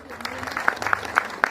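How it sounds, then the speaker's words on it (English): Scattered clapping from a small crowd at an agro-ecology policy launch, a few sharp distinct claps standing out, with a voice talking over it. "Let's please add them a round of applause tafadhali."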